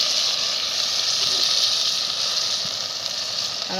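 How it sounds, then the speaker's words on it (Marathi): Water is poured into a hot pan of frying vajri dal, giving a steady, hissing sizzle with bubbling wash that holds at an even level throughout. "थोडस मी पाणी टाकून घेते आता"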